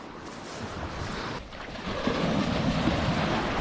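Small waves break on a sandbar along an island coast in Zambales, Philippines, a steady washing surf that swells louder toward the end, with wind buffeting the microphone throughout.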